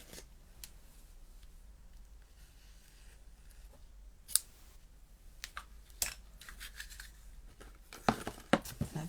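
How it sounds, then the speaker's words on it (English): Ribbon scissors snip through ribbon in several short, sharp cuts, scattered and close, with faint rustling handling between them and a cluster of quick snips near the end. "With my ribbon scissors."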